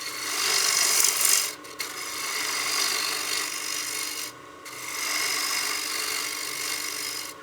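A wood lathe turning at about 1300 RPM as a tool shortens the tenon on a turned wooden coin box, giving a close, continuous scraping hiss that briefly cuts out twice.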